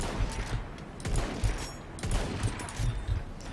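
Rapid bursts of gunfire in the Battlefield 1 video game, several dense volleys crackling back to back for a few seconds, close and loud with no talking.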